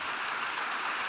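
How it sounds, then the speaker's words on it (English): Audience applause at a fireside chat on AI voice technology, a steady, dense wash of clapping filling the whole stretch with no talk over it. "the very well-deserved round of applause"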